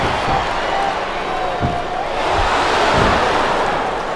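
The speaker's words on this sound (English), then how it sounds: "This capacity crowd is making their opinions known tonight." Arena crowd roar from the wrestling game SmackDown vs Raw 2007, a steady wash of cheering and murmuring with a few thuds, swelling slightly under ongoing commentary voices.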